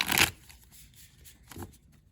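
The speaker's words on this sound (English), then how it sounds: "I'm going to shuffle the first deck just a few more times and split the deck" A tarot card deck being shuffled by hand, a quick crisp riffle at the start and a softer second shuffle a moment later, close and alone with no talk.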